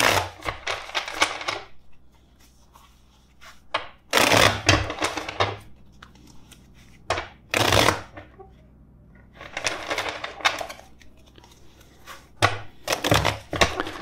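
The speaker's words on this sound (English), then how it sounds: "let's shuffle the deck four times" A deck of tarot cards is shuffled by hand in close, crisp riffling bursts separated by short pauses, with no talking over it.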